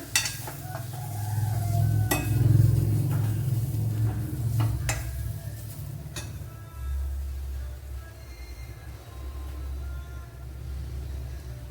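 Turmeric and other spice powders sizzle steadily as they fry in a pan for Kerala-style bitter gourd, with close stirring scrapes and a few sharp utensil taps on the pan.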